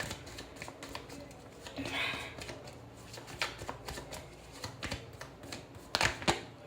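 Tarot cards are shuffled and drawn, with riffling, flicking and sharp slaps of cards at a close distance, in irregular bursts under quiet background.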